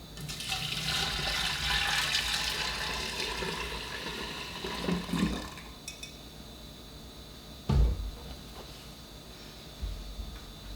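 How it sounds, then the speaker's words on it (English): Hot tea is poured onto cane sugar in a container, a loud gurgling pour over the first several seconds that fades, followed by a sharp clink of glass or utensil and quieter handling sounds. "I'm going to pour that in there and then I'm going to pour the hot tea right on"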